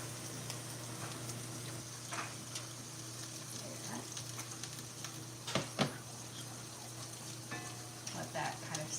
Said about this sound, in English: Let that kind of simmer here.